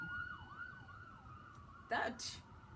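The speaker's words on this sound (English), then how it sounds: "there's some loud sirens" A wailing siren rises and falls in the distance under a faint background hum, then a couple of brief louder noises cut in near the end.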